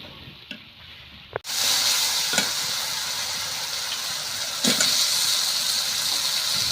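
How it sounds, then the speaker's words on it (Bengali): Spices fry into a masala in a pan: after a quiet start with a couple of clinks, a loud steady sizzle bursts in and hisses on, with occasional stirring knocks. "আমি কিন্তু সব রকমের মশলা দিয়ে কষিয়ে নিতেছি"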